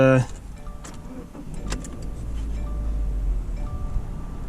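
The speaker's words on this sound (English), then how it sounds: "Let me go ahead and start the car up." Engine of a 2018 Subaru Outback Premium starting up, a brief crank then a steady low idle settling in, heard up close inside the car.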